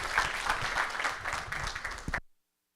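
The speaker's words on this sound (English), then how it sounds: "Let's give our panel a round of applause." An audience applauds a panel at a Native Edge Institute event in Orlando, Florida, with steady, dense clapping for about two seconds before it cuts off abruptly.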